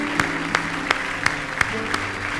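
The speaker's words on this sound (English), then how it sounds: "Now give the Lord a big hand clap of praise if you love him this morning." Church congregation clapping hands in praise during a morning worship service, six sharp, evenly spaced claps over a steady low hum of room noise, fairly close.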